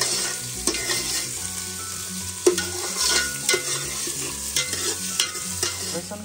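Crushed garlic cloves fry in a pan over a medium gas flame, a close, steady sizzle with occasional stirring scrapes and taps, no voices.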